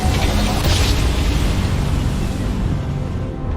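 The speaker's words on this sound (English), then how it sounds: "What's going on there? Explosions?" Explosions in the Starfield video game, a dense roar of booming blasts that fills the whole stretch with heavy rumble and no voice over it.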